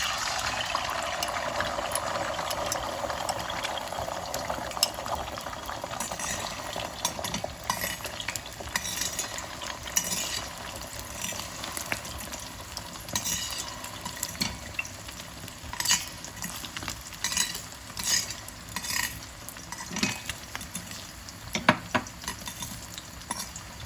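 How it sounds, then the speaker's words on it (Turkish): Soft sizzling and crackling of an egg frying in oil in a pot, with occasional scrapes and taps of a utensil stirring, fairly quiet and steady. "Tencereme yağımı ekledim. Yumurtayı ekleyelim."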